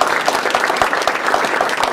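An audience at a talk in the Islamic Center of Southern California claps in a dense, steady round of applause, close and fairly loud, with no pauses.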